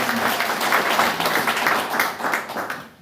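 An audience at a Gyeonggi provincial party meeting claps steadily and fairly loudly, tapering off at the end.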